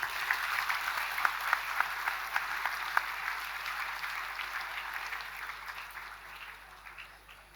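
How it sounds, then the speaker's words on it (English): Audience applause for award recipients at a university day ceremony: steady, dense clapping from a large crowd, with a few sharper claps standing out early, fading gradually toward the end. "Please give a big hand to the awardees"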